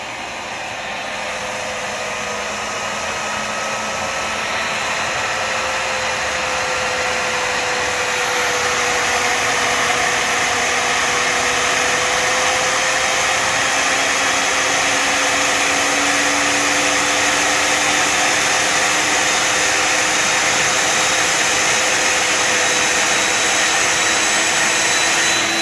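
FPV quadcopter drone motors whining steadily at near-constant throttle for the whole stretch, a dense buzzing drone with slowly drifting pitch lines where the motor speeds rise and fall unevenly against each other.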